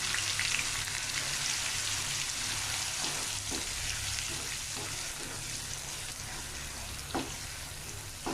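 Ground onion paste sautés in hot oil for paneer masala, a dense, steady sizzle with a few faint stirring ticks and no voices.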